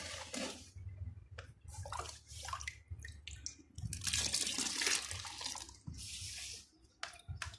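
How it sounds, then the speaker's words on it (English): Water is poured little by little into a bowl of liquid soap base mixed with salt, giving faint, intermittent splashing and trickling in short bursts with brief pauses between them. "you add the water little by little into it"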